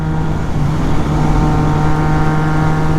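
A Triumph Trident 660 motorcycle pulling hard in sixth gear gives a steady, loud engine drone with wind rush, close and continuous with no talk.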